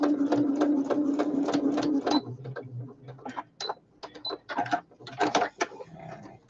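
A sewing machine stitches a paper bag for a junk journal, first in a rapid steady run, then in short intermittent bursts of stitching with pauses between.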